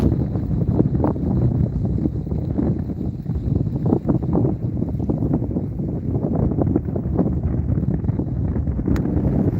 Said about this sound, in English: The wind is blowing into this point, so that's very nice.